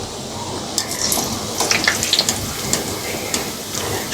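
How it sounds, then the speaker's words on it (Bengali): Palm fruit fritters (tal bora) frying in a pan, a steady bubbling sizzle with scattered clinks and stirring scrapes, close and continuous with no talk. "একইভাবে আমি সবগুলো পিঠে ভেজে নিচ্ছি।"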